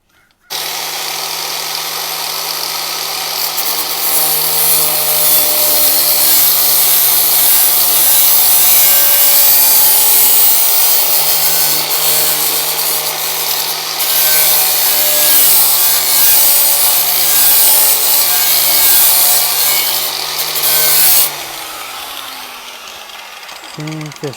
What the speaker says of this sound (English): let's grind it down a little bit.